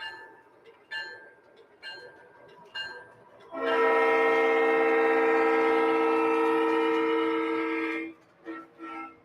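An early Conrail-era locomotive in Penn Central paint sounds a long, loud, sustained multi-chime horn blast lasting about four seconds, with brief fainter horn toots and rumble before and after.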